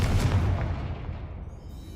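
A Confringo fire-blast spell goes off in the video game Hogwarts Legacy: a loud, booming explosive burst with heavy low rumble that slowly decays over about two seconds, with no talking.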